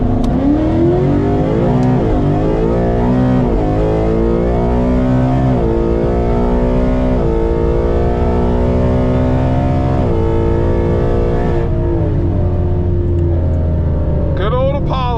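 A car called Apollo accelerates hard through rising and falling gear pulls, its engine loud, close and steady for the whole run, easing off near the end with a brief clatter.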